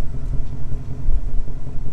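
A 2018 Ford Mustang GT idling, its engine giving a steady, loud low rumble that stays continuous and close throughout, with no other sounds over it.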